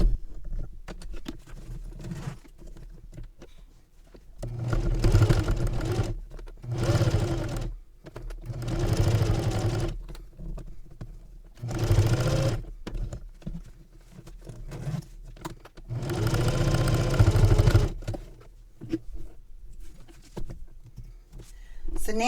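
A domestic sewing machine bastes a 1/8 inch seam on a travel belt in several loud bursts of rapid stitching, separated by brief pauses.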